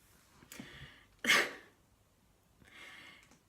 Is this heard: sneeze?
yes